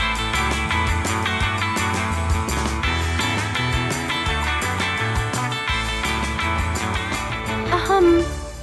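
Rock music with electric guitar plays loud and dense, with a strong, metallic, distorted tone over a steady beat that continues throughout with no talking.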